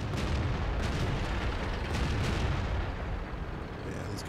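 Tank cannon fire in World of Tanks from a battle around a KV-3, a dense continuous rumble of booms and blasts at steady loudness, with no talking over it.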